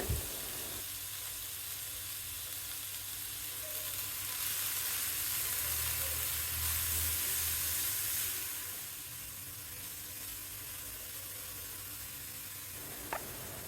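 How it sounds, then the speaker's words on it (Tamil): Cluster beans with ground coconut sautéing on a low flame, giving a steady, moderately quiet sizzle and hiss that swells slightly midway, with a faint utensil tap near the end. "லோ ஃப்ளேமில் வச்சுட்டு ஒரு நிமிஷம் வரைக்கும் வதக்குனா போதும்"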